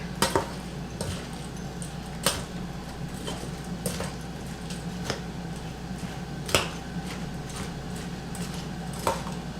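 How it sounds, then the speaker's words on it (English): A spoon stirs a cranberry pecan stuffing mixture in a pot, giving soft scraping with a series of sharp clinks against the pot at irregular intervals, close and fairly quiet, with no talking. "I'm just going to kind of stir it up"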